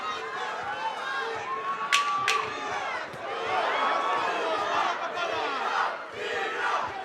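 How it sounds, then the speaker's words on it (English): A boxing arena crowd roars and chants a fighter's name, Tito, a dense sustained wall of yelling with a couple of sharp whistles rising above it partway through. "the crowd yells Tito"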